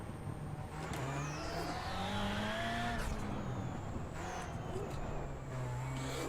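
VW Beetle rallycross car in iRacing at Lucas Oil, its engine droning and revving steadily with rising and falling pitch as the driver gets back on the throttle, loud and continuous throughout.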